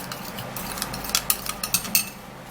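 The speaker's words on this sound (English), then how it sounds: "So when lemon drops with baking soda, it gives that foaminess, and then you stir and mix it really great" Spoon stirring a fizzing mixture of lemon juice and baking soda in a bowl, heard as a run of light clinking and scraping taps that grow quicker and sharper toward the end, close by, with no talking.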